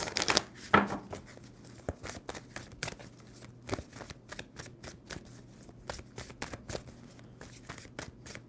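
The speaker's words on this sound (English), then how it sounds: "Two more shuffles for Libra." A deck of tarot cards is shuffled up close during a love reading, giving rapid papery riffles and snapping flicks in quick irregular bursts, with no talking.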